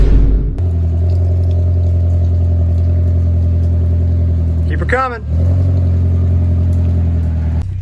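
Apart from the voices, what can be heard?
VW Golf GTI engine with new custom exhaust on test drive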